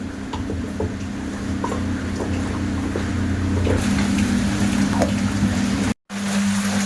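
A kitchen mixer grinder whirs steadily with a low motor hum and gritty rattling as it blends semolina and potato pieces, cutting off briefly before starting again.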